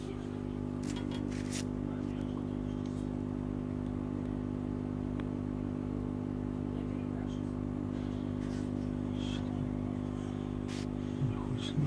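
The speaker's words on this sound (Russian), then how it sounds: "Включаем компрессор и фильтр." Aquarium air compressor and filter (Jebo) giving off a low, steady electrical hum with a faint buzzing overtone, continuous and quiet, with a few small clicks and handling knocks.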